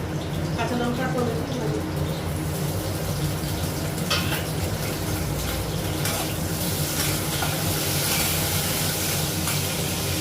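Bengali tempering of green chilies and five-spice seeds in hot oil, a loud, steady close sizzle and spatter with someone talking over it throughout.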